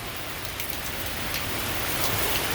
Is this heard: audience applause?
no